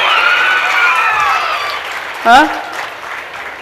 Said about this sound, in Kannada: ಎಲ್ಲ ಕಡೆಯಿಂದ ಚಪ್ಪಾಳೆ ಮತ್ತೆ ಚಪ್ಪಾಳೆ